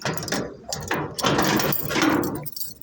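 Padlock being unlocked with a key in a home, close metallic clicking and ratcheting scrapes in several short bursts, with no talk.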